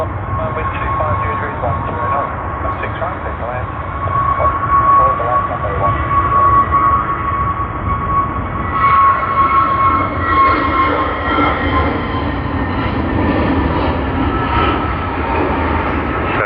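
Cathay Pacific Boeing flight CX181, Hong Kong to Sydney, rolling for takeoff on runway 16R at Sydney Airport, a loud sustained engine roar with a steady high whine, with a voice talking over it.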